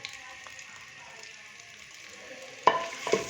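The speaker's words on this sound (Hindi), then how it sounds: "प्याज को हम लाइट ब्राउन होने तक फ्राई करेंगे।" Finely chopped onion fries in hot oil, a soft continuous sizzle and crackle close by with a couple of sharper stirring clinks near the end.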